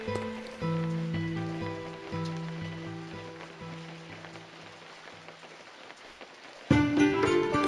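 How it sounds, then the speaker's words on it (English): Rain patters steadily in an isometric dungeon crawler video game, a soft hiss under low background music tones, swelling suddenly louder near the end. "Alright, it's raining."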